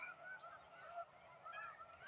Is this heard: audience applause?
no